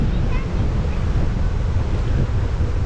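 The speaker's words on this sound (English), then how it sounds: "Ooh, it's windy." Steady, loud wind buffeting a microphone on a Macau street built on reclaimed land beside the casinos, a continuous low rumble with no break across the whole stretch.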